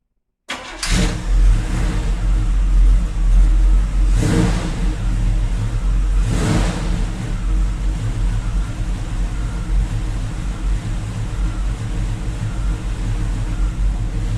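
A car engine cranks and catches, then settles into a loud, steady idle while it warms up, with a couple of brief revs early on.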